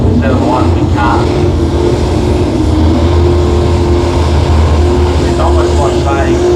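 Mopar car engine idling and revving at a car show, a loud close-up rumble with short throttle blips, with people talking over it.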